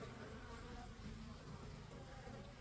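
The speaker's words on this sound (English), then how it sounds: "There is about 8 seams of bees" Honey bees buzzing in an opened hive brood box, a dense, steady hum of many insects close up that holds even throughout, with no talk.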